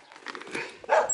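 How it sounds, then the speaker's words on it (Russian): Dogs bark outdoors in Russia, giving a brief run of sharp barks and yips at moderate distance, with a louder bark at the end. "Блин, собаки лают нахуй, рыжик воет нахуй."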